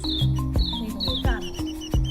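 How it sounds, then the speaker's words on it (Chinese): Birds in a quiet hotel garden in South Africa give repeated short, sharp chirps and tweets, mixed with intermittent clicking knocks nearby. "如果没有人说话，你听到全是鸟叫声。"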